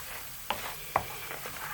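Quiet steady sizzling of spices frying in a pan for Madras curry paste, with two sharp clicks of a utensil scraping or tapping.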